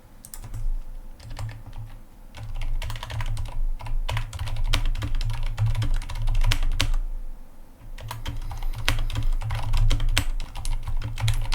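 Rapid clicking of fingers typing on a computer keyboard, close and fairly quiet, in steady bursts with a short pause partway through.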